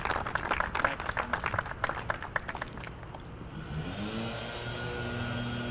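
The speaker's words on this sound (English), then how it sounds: "Let's give them all a big round of applause" Audience at an outdoor groundbreaking ceremony for the Mid Hudson Valley Federal Credit Union in Peekskill gives a dense burst of applause lasting about three seconds, then the clapping dies away, leaving a steady low hum.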